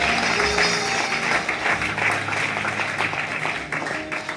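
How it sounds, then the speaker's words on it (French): A church congregation at an evening service bursts into loud, sustained applause, with dense clapping from many hands filling the room throughout. "Acclamons très fort le Seigneur."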